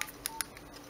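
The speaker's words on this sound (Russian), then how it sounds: "Клавиши нажимаются очень удобно." Keys on a Nokia 1616 mobile phone are pressed, giving three quick, bright beeping key tones close up, followed by near silence.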